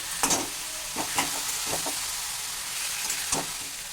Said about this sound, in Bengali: তার সাথে দিয়ে দিচ্ছি ভাজা ইলিশ মাছের মাথা এবার একটু ভালো করে নেড়ে ফেলে দিই